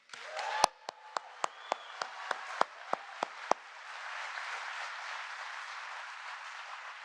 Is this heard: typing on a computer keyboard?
no